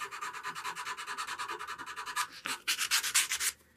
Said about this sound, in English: That's just when you sand over the edge here, so it's not like super sharp.